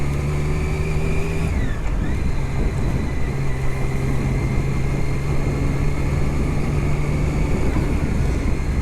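Motorcycle engine heard from a helmet-mounted GoPro Hero9 on a city ride toward Yorkville, Toronto, a loud steady drone with wind rush and a gear change or throttle shift near the start, no talk.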